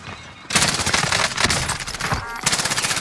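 An enemy sentry gun in a first-person shooter game fires long, rapid automatic bursts, loud and close, with a brief pause before the fire resumes.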